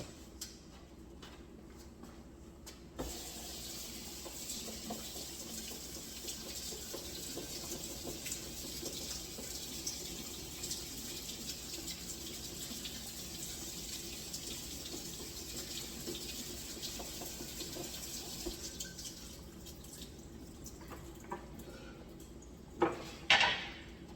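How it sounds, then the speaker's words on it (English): Tap water runs steadily into a sink as cut, home-grown garden potatoes are rinsed, a soft continuous hiss lasting about twenty seconds, with faint clatter of pieces against a bowl before the flow stops and a few bumps follow. "So these are the potatoes we've cut up. Let me rinse them."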